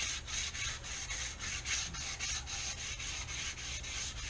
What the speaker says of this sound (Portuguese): Eu tô lixando isso aqui agora.